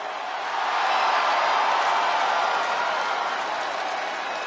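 A packed arena crowd in the WWE 2K26 wrestling video game roars for L.A. Knight's entrance, a loud, steady wash of cheering and clapping that swells early and holds without letup.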